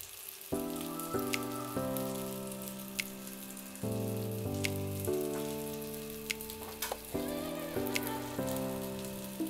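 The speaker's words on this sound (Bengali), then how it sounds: "এবার ভাজা ভাজা হোক আস্তে আস্তে, আমি সিমে করে এগুলোকে করছি।" Chicken seekh kebabs fry slowly in a pan on low heat with a constant gentle sizzle and occasional pops. Background music plays steadily over the frying.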